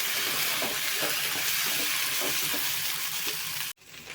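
Okra stir-fried in a pan over medium heat gives a loud, steady hiss of sizzling oil with soft stirring scrapes. The sound cuts off abruptly near the end, and no one speaks.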